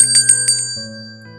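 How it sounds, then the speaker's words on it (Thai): Three quick bright bell dings from a small reception counter bell struck close by, with a steady electronic hum continuing underneath. "ลูเซียนกดกริ่งที่เคาน์เตอร์แล้วยืนรอไม่มีใครออกมาต้อนรับเขากดกริ่งอีกครั้ง"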